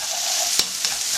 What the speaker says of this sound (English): you stir fry that for a couple of minutes